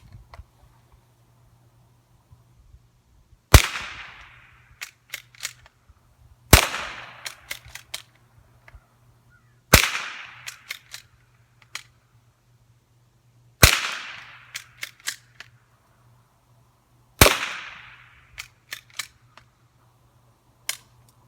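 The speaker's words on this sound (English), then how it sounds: "it's more fun to shoot guns than it is to talk about them." An old rifle fires five sharp, loud gunshots spaced a few seconds apart outdoors, each crack followed by a short decaying echo and small clicks of handling in between, with no talking.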